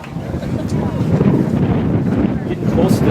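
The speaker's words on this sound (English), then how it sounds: "it feels like the wind just picked up" Steady, loud wind buffeting the microphone on an outdoor soccer field during a windy, rainy first half, a continuous rumbling roar with no break.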